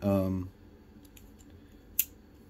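An Aimaculate folding stock adapter gives one sharp, close mechanical click, alone in a quiet room after a short stretch of talking.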